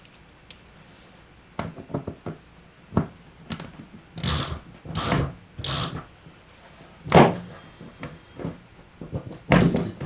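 A ratchet socket wrench turns a bolt on a Can-Am Spyder trunk, making several bursts of rapid clicking separated by pauses, close and clear.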